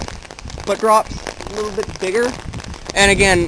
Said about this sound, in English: But this is rain, and not as heavy as last night, but drops a little bit bigger.